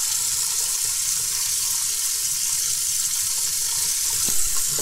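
Tap water runs and splashes steadily into a sink as a car-polishing pad is warmed and rinsed, a close, constant gush with no talking.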